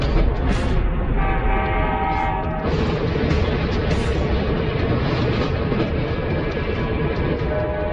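A train riding the rails in Louisiana, a loud, steady roar of wheels and cars rolling past up close, with a sustained horn-like tone partway through.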